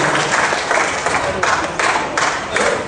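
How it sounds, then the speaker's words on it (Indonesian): Audience applause after a motivational speaker's talk, dense broadband clapping with surges and a speaking voice over it. "tepuk tangan Anda semua"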